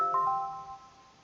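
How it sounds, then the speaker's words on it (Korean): Mobile phone ringtone going off during a lecture on RF engineering filters, a short clean electronic chime of a few quick bright notes that rings out and fades, alone without speech. "전화가 또 왔네요."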